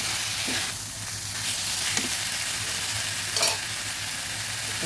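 Small kechki fish fry in a pan under a constant, dense sizzle, with a few soft scrapes as they are gently turned, close and steady without speech.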